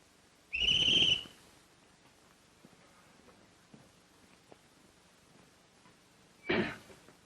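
A shrill whistle blast rings out near and loud, followed by quiet room sounds and a few soft taps, then a second shorter burst.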